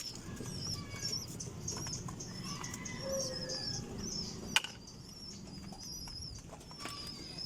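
Pigeons flapping their wings while being fed and watered, fluttering bursts against a soft bed of cooing and chirps, with one sharp knock midway.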